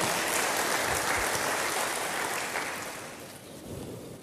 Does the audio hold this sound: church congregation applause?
yes